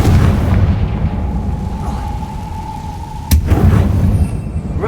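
A Confringo fire spell bursts in Hogwarts Legacy as one sharp, loud boom, sitting over a steady low game rumble and a faint sustained tone.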